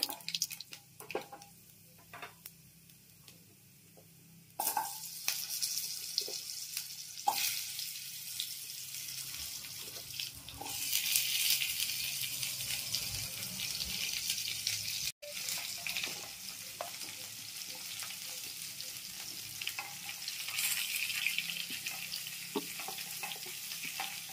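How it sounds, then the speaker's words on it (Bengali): Vegetables hit a hot pan for badam shukto, a Bengali dish made with raw peanuts, setting off a sudden loud sizzle after a quiet start, followed by steady frying with intermittent stirring scrapes. "এবার আমি সবজিগুলো দেব, নাড়া দিয়ে"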